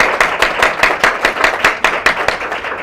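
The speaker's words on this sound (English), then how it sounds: "Let's give them a round of applause." An audience at an awards presentation claps in quick, rhythmic beats that sound fairly close and steady, with no voices.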